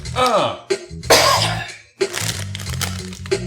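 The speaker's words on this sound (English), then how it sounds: "Got a little cough." A few sharp, close coughs burst out in quick succession, with brief pauses between them.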